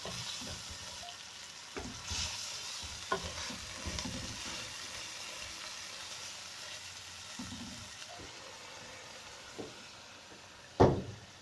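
Chicken being stir-fried in a pan at home, a quiet continuous sizzle broken by occasional scraping and stirring knocks, with a sharper clatter near the end; no one speaks.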